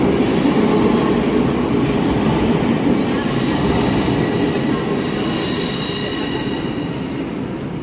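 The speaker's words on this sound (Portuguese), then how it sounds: "Aqui no metrô," A metro train rumbles loudly and continuously through a station, with steady wheel noise and faint high squeals, no voices.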